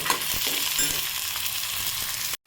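Chopped onion frying and being stirred in a pan over low heat, a continuous close sizzle with occasional scraping stirs, then an abrupt cut to silence near the end.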